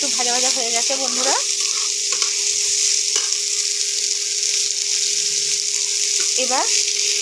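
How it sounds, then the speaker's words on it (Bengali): Small cut cauliflower pieces fry in hot oil for a Bengali cauliflower chop, giving a steady, bright sizzle throughout. A person speaks briefly over it near the start and again toward the end. "কপিটা একটু ভাজা ভাজা হয়ে গেছে"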